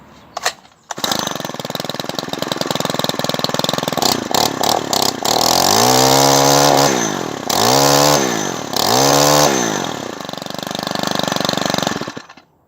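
A Stihl HL95 hedge trimmer's small two-stroke engine restarts after two years unused and runs loud and close, a buzzing idle that revs up and down several times in rising and falling sweeps before cutting off.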